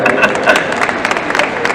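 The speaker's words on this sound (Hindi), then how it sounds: "ताली हो जाए।" Festival crowd applauding after a comedian's joke at the Invincible Festival: a brief burst of clapping and crowd noise with voices mixed in.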